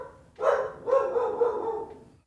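A dog barks close by, a couple of loud, drawn-out barks that blur into a whining, yelping howl before trailing off.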